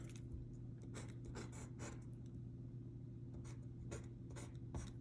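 Quiet scratchy strokes of a pen moving across paper, in short repeated bursts over a steady low hum.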